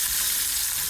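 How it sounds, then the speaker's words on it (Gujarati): Mustard seeds sizzle and crackle in hot oil for a tempering, giving a short, dense burst of frying noise close by with no talking. "તો હું વઘાર કરી નાખીશ રાઈનો"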